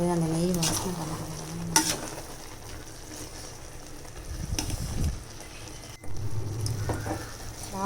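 A pot of cowpea (karamani) rice with ghee sizzles softly while being stirred, with scraping swells and brief faint voice sounds in the background.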